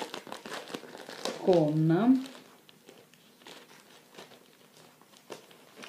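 Packaging of a craft set crinkles and tears as it is pulled open, a loud burst of rustling with someone speaking Italian close by.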